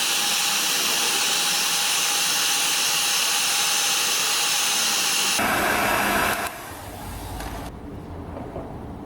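A heat gun blows loudly and steadily at close range while warming a car emblem for removal, its roaring airflow changing tone partway through and then dropping lower as it shifts away.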